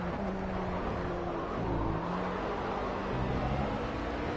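Race cars including an Audi R8 and a McLaren roar in a continuous engine drone at Le Mans in the racing game Project CARS, with a dense, steady wash of engine noise throughout.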